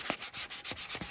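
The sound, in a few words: light sanding of wood for a recycled plant stand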